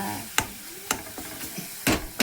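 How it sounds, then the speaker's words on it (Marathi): Vegetables fried in oil for a Marathi bhaji and kharda recipe: a soft steady sizzle broken by several sharp scraping stirs of a spoon in the pan, close and without talk. "तेल टाकून घेतले अजून मस्तपैकी आता एकदा अजून फ्राय करायचं"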